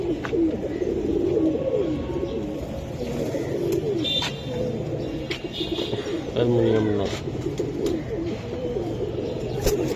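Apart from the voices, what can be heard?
pigeons cooing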